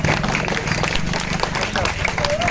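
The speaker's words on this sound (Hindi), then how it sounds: "जोरदार तालियों से" Dense, loud clapping from a crowd at an AIMIM political rally in a Bhiwandi compound, steady and continuous through the short stretch with crowd noise mixed in.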